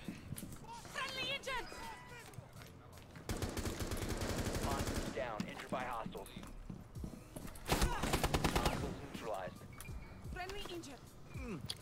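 Rapid bursts of automatic gunfire and single shots ring out in a PC video game, some loud and close, mixed with other game effects, while players talk over the action.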